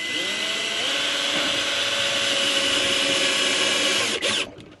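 A power drill whirs steadily while driving a screw into a boat's interior fittings, loud and continuous for about four seconds before it cuts off abruptly.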